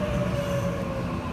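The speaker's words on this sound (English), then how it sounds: "So this is the original Waratah Series 2 B-set." A Sydney Trains Waratah Series 2 B-set electric train, steady rumbling interior noise with a faint high whine, continuous and fairly loud throughout.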